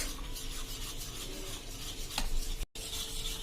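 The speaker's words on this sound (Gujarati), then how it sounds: "અને એને પાછું આપણે મિક્સ કરી લેશું આ રીતે સરસ" Hot oil being stirred into potato bhajiya batter in a bowl, a steady wet scraping and mixing sound close by with a short clink near the end, no voices.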